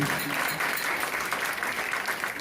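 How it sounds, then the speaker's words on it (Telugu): Loud, dense applause from an audience at a Srinivasa Kalyanam religious event, sustained clapping throughout with no pause. "ఒకసారి గట్టిగా చప్పట్లు కొట్టడం"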